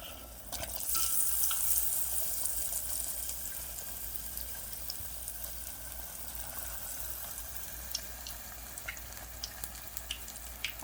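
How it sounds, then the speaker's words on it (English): Battered cauliflower pieces deep frying in hot oil give a dense, continuous bubbling sizzle, loudest at the start and settling into a steady hiss with scattered pops, heard up close without talk. "Now I'm going to put the cauliflower in the batter, and I'm going to deep fry them for 5 minutes"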